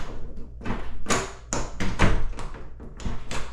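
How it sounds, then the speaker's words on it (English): An interior door with a newly installed knob is worked back and forth, giving a series of sharp latch clicks and light knocks, close by, spaced irregularly over a few seconds. "Make sure both sides work. The door latches."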